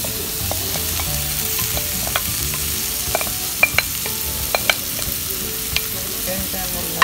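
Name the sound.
sauce added to tofu sisig frying in a pan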